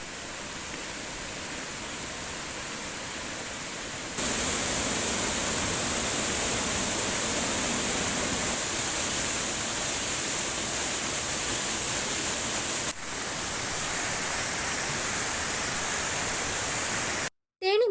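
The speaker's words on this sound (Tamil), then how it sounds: "உடுமலை திருமூர்த்தி மலை பஞ்சலிங்க அருவியில் ஆர்ப்பரித்து கொட்டும் தண்ணீரால்" Water gushing down Panchalinga waterfall in the Thirumoorthy hills near Udumalai, a dense, loud, continuous roar heard up close that shifts level in a few steps as the view changes.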